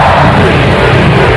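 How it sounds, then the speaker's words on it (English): Dense, loud roar of a football stadium crowd celebrating a touchdown, a continuous wash of cheering voices with no breaks. "The roar of the crowd."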